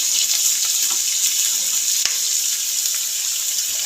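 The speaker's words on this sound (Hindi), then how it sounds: "तो मैं इन सारी सब्जियों को हाई फ्लेम पर देखिए इस तरह से फ्राई कर लेती हूँ।" Carrots, capsicum and other vegetables fry in a pan over high flame with a loud, even, continuous sizzle, heard close, and a brief clink partway through.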